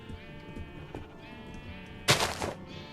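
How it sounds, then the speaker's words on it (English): A baby sheep bleats in a Minecraft-style video game, with repeated harmonic cries throughout and a sudden loud, noisy burst near the end. "Little baby sheep, no! You have to get out of there!"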